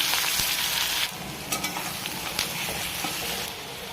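Steady sizzling of chopped onions frying in a hot pan, with a few soft clinks and scrapes of stirring, no voices.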